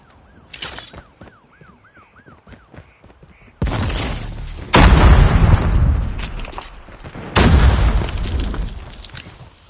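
Grenade blasts in Call of Duty Mobile during a Search and Destroy ranked match, with several heavy booms rolling one after another in the second half, preceded by short beeps and a faint siren-like tone.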